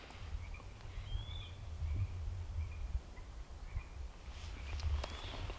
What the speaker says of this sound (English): I'm hearing some frogs over my shoulder here.